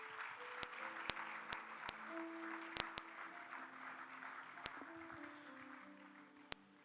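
Church congregation applauding and cheering during a sermon, a sustained wash of clapping with sharp individual claps and scattered voices, steady and full before easing slightly at the end.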